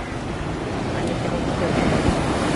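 At the seaside, waves and wind form a steady, broad rushing roar, close and fairly loud, with a slight swell toward the end and no voices.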